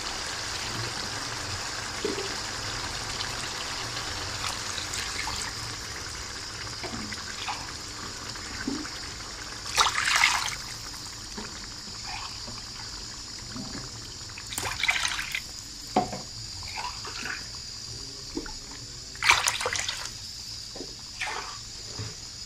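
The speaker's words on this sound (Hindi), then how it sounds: "अब हम इसमें पानी ऐड करेंगे।" Water splashes into a pot of rice for biryani in three separate pours, each a short gushing burst over a quiet background trickle.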